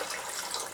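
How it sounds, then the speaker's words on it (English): A cup of broth poured onto a pork roast for carnitas, a brief, soft, continuous splashing stream under a second long. "this is the cup of broth. I'm going to pour it next"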